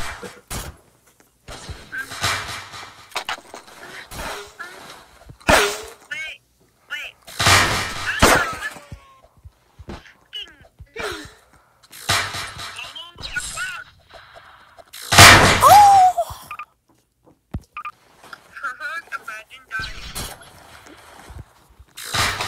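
Shotgun blasts in a first-person shooter match, loud sharp bursts scattered irregularly through the stretch with rapid knife-switching action, while players chatter and react between shots.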